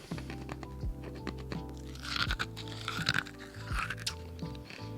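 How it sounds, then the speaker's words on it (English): Crunchy candy being chewed up close, repeated crisp crunches and crackles in an uneven rhythm, fairly loud against a low background hum. "They're really crunchy."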